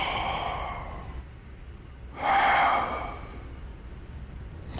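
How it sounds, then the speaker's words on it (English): A sleeping Dark Souls 3 character snores in two slow breathy rasps, the second louder and fuller, set against a steady low hum of game ambience. "Snoring and all."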